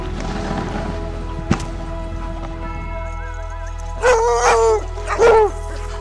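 Sled dogs by a snowy lake yip and howl in a couple of brief bursts over steady ambient noise, sounding fairly close, with no talk.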